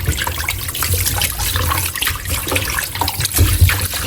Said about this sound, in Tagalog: Ulitin lang po ulit natin ang paghugas po dito sa karne.